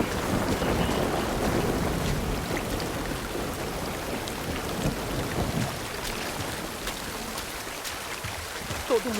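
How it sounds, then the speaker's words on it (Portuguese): Thunder and rain in the video game The Last of Us Part II, a low rolling rumble under a constant wash of rain that fades slightly toward the end. "Oh, raios e trovões!"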